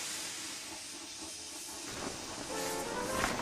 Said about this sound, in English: He was so scared, he let out a huge burst of steam,